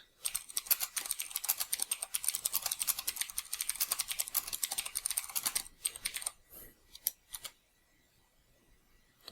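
Rapid fingers tap a computer keyboard in a quick, uneven clatter for several seconds, then slow to a few scattered keystrokes before falling silent; the sound is close and crisp, with no voices.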